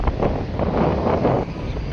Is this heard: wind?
yes